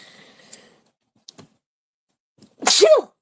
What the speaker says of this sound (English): I spend my days sneezing away.